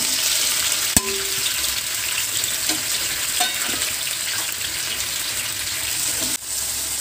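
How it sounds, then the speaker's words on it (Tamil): Chopped tomatoes hitting hot oil in a pan, a loud steady sizzling hiss that runs throughout, marked by a sharp knock near the start and another near the end, with no one talking. "இப்போ கட் பண்ணியிருக்கிற தக்காளியை அதில் கொட்டிடுங்க"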